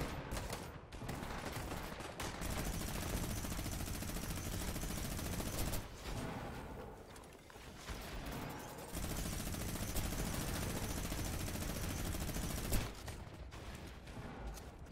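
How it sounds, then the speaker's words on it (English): Rapid, sustained minigun fire in a competitive shooter game, a dense continuous roar of gunfire broken by a few short gaps and bursting back in for long stretches. "Edgey with the minigun again"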